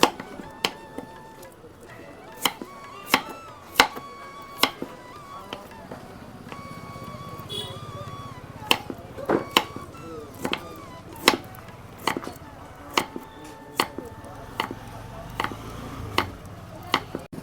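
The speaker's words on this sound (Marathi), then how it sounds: "आज कटिंग करायला घेऊ त्याला आपण कापूया" A knife chops tender bamboo shoots into thin chips with sharp, close cuts in an irregular rhythm across the whole stretch, some strokes in quick pairs, over a faint background.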